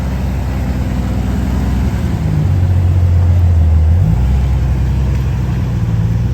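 Jeep engines idle and rev at an off-road trailhead on rocks, a loud, close, low rumble that climbs in pitch with the revving and then settles back, with no talking.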